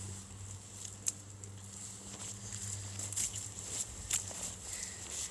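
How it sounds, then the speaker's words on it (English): Rain and snow patter outside on a mountain property, faint irregular ticks and soft taps over a low steady hum, scattered and quiet throughout. "It's been snowing and raining all day."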